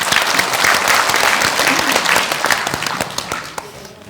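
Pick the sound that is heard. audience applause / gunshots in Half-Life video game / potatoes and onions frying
audience applause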